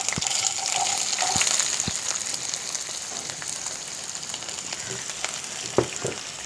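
Chopped onions fry in hot oil already used for frying, a steady dense sizzle with a few sharper crackles and stirring clinks, close and without talk.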